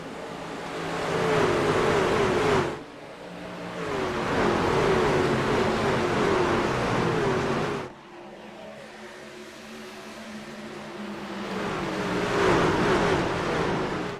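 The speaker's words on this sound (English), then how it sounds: "The field in the hands of Jeffrey Vickery, and racing commences once again from Varrock" Racing truck engines roar in an iRacing truck series race at Rockingham, a loud continuous drone of revving motors that surges, drops off sharply twice, and builds again as the field runs.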